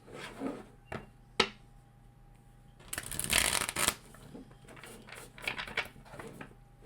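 A tarot card deck is shuffled by hand, with a few sharp taps and then a loud riffling burst followed by softer shuffling and card handling, close up.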